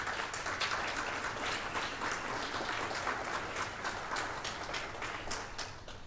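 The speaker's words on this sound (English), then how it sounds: "So let's give them a round of applause." An audience at a university business school building dedication ceremony applauds the advisory board, a thick, continuous burst of clapping that stays loud and even for about six seconds.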